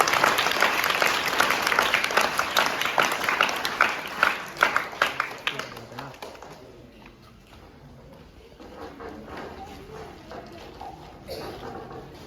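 Lively clapping from a school audience greets a teacher being invited on stage to celebrate a pupil's selection, loud and crisp for several seconds before fading into quieter room sound with faint scattered claps.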